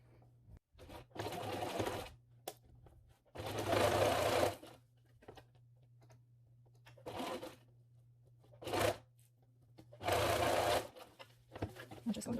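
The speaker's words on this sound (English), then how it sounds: "I'm closing this with a stitch here" A sewing machine stitches closed a fabric face mask with elastic. It runs in several short bursts of rapid needle clatter, separated by quiet pauses over a low steady hum.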